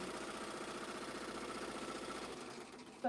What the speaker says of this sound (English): push the green button and it's going to start doing the tack down and the satin stitch